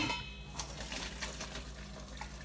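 Boiled pasta being strained as water drains off it, with splashing and running water plus light clatter of a pot and colander in a home kitchen, steady and fairly close.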